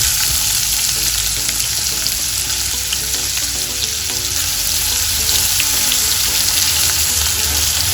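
Two onions hit hot oil with cumin seeds in a pan for palak paneer, a loud, dense, continuous sizzle with occasional scraping of a spoon, no voices.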